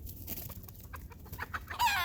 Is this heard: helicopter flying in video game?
no